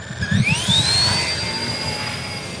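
An RC ERA C032 UH-1 Huey model helicopter spins up for takeoff, giving a loud close electric whine that rises in pitch over the first second and then holds steady.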